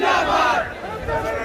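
A crowd of TMC supporters along a roadside at a political rally gives a loud, dense roar of shouting and cheering that eases slightly midway, close and continuous.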